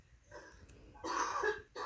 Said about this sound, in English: I was coughing into my shoulder